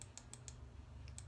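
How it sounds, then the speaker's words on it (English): Sharp computer mouse clicks during play of a game, several quick taps in an uneven burst followed by a pause and two more, close and fairly faint over a low steady hum. "Sorry if you hear me clicking a lot"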